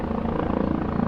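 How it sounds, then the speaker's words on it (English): A helicopter passes overhead with a steady, loud rotor thump and engine drone that holds constant throughout, with no other sounds. "is that a helicopter now?"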